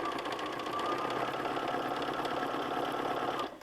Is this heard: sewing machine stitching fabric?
yes